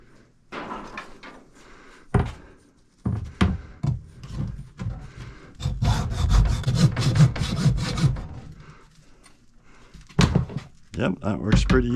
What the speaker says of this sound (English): I don't want to make a big mess or a lot of noise, let's just use a hacksaw